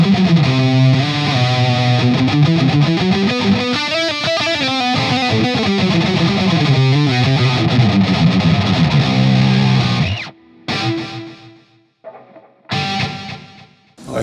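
Electric guitar on a GOC Materia's neck pickup, with reverb and delay, plays a thick, sustained distorted melodic phrase that ends abruptly, followed by a few short plucked notes separated by near-silence.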